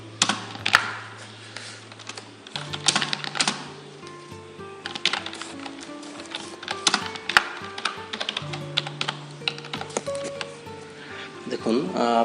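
Keys clatter on a computer keyboard in irregular quick bursts while a person talks through a word-processor lesson, with a low steady hum underneath.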